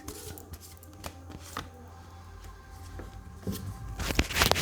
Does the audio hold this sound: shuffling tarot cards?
yes